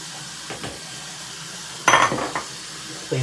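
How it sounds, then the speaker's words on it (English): A shaving bowl is rinsed and cleaned after a neck shave with Proraso shave cream, giving soft water splashes, then a brighter clatter and scrape of the bowl, and a final short knock, all close and fairly quiet. "Clean off my bowl."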